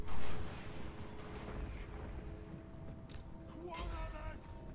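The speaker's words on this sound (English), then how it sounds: "The cannons and the catapults are gonna kill him." Cannons and catapults fire in a Total War Warhammer battle: a heavy boom opens the clip, then rumbling battle noise continues under someone talking.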